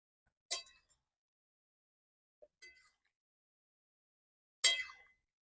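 A utensil stirs chicken with masala in a pot, giving three sparse, light metallic clinks with quiet stretches in between.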